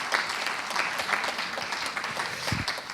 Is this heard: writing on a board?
no